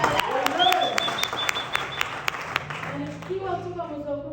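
A church congregation applauds during a testimony service: sustained, fairly loud clapping with people talking and voices carrying over it throughout.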